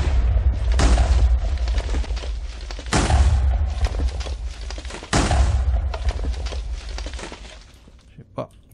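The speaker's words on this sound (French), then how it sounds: "on va entendre des explosions tout le temps" Repeated explosions boom in a Minecraft Stoneblock 2 modpack world, three large blasts a couple of seconds apart, each followed by crumbling debris, with a voice talking faintly in the background.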